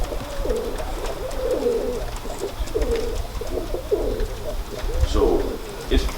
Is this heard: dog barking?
no